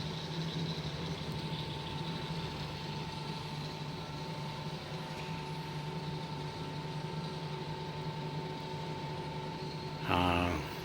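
A Bode 5000 kg welding positioner with a faulty gearbox, turning its square table with a steady, fairly faint electric motor hum and gear whine that runs evenly, ending in a short rattling burst.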